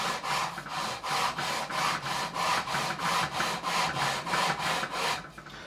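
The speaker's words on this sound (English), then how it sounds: "Let the file do the work, or let the sanding block do the work," About a dozen evenly paced back-and-forth rasping strokes, close and fairly loud, as a sanding block rubs across the metal frets of an Epiphone Les Paul Standard guitar.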